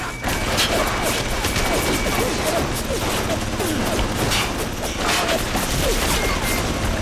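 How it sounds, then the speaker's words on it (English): A hacked friendly turret fires in BioShock, a continuous dense rattle of rapid gunfire mixed with crashes and game noise throughout, under some talk. "Now we have a friendly turret."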